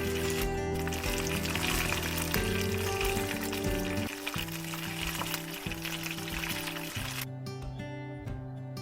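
Finely chopped ginger and garlic sizzle and fry steadily in hot oil in a pan for bread pakoda, a close, continuous crackle with background music tones running throughout.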